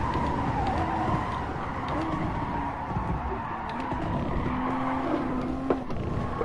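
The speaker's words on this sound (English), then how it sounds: "I'm braking now." Race car braking with tires skidding in GT Sport during a GR Supra Cup race at Le Mans, a sustained screech of tire squeal over a droning engine, close and loud, no talk.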